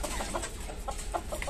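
A caged hill-breed rooster gives a series of soft, quick clucks at close range over a steady low background hum.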